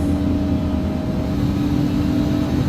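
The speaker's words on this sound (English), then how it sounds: "let me know if this engine noise on this is too loud" A simulated Embraer ERJ 145XR regional jet engine runs in X-Plane 11, giving a loud, steady drone with a constant low hum and tonal whine that holds without change.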